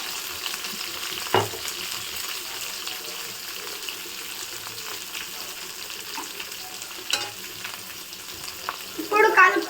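Goa-style chilli chicken with ginger sizzles and fries in a pan while being stirred, a steady close crackle with a few scraping stirs and a louder burst of sizzling near the end.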